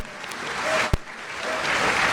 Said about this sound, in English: Everybody clap for Shelby for bringing us burritos.